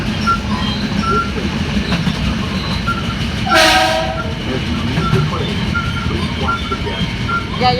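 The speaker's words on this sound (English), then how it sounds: "Y'all can definitely hear that big horn." A subway train between Melrose and White Plains rumbles steadily and loudly, and a short blaring horn sounds in the middle, close by.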